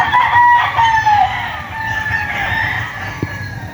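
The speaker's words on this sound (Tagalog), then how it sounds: "Ayan po yung manukan ni Ninong Art Canlas" Roosters in a spacious chicken coop give loud, drawn-out crows that overlap one another, with fainter crowing and clucking from other fowl in the background.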